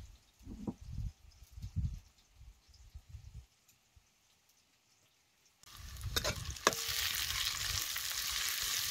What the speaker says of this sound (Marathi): आता हे चेचलेलं आलं लसूण बी तेलात भाजायचं.